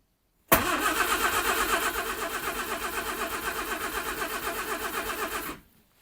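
A car engine cranks briefly and catches, then settles into a steady, loud idle close by for several seconds before cutting off abruptly; the car's handbrake is stuck on.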